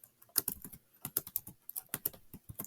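Rapid typing on a computer keyboard, close and fairly quiet, with uneven bursts of clacking keystrokes and short pauses, no voices.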